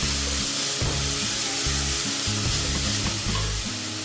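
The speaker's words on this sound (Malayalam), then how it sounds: "ഇതിലോട്ട് നമുക്ക് 1 ടേബിൾ സ്പൂൺ ഇഞ്ചി വെളുത്തുള്ളി പേസ്റ്റ്, നന്നായി മിക്സ് ചെയ്യാം." Ginger-garlic paste frying in a pan of oil and onions for a Kerala varutharacha chicken curry, a loud, constant sizzle broken by regular scraping stirs of the spatula.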